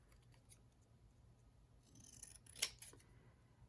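Scissors fussy-cut a paper butterfly word with a few soft, close snips that cluster near the end of a quiet moment.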